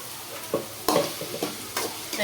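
Onions with crushed ginger and garlic are sautéed in a pan: a soft, low sizzle runs underneath while a spoon scrapes and clatters in scattered, irregular strokes, some sharper than others, with no talking.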